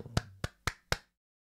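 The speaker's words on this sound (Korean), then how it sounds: "박수!" Four crisp hand claps in an even, quick rhythm, close and fairly quiet, followed by silence.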